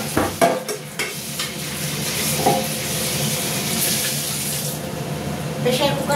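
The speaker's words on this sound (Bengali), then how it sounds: "এবার সুন্দর করে কষাতে থাকবো।" Chicken being stir-fried in a pan for a home-cooked lunch: a steady sizzle runs throughout, broken early by several sharp scraping strokes of a spatula against the pan, close and fairly loud.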